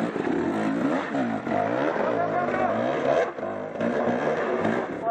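Off-road vehicle engine revving hard on a single-track trail near Four Mile, Buena Vista, rising and falling in repeated throttle bursts, loud and close throughout with no speech over it.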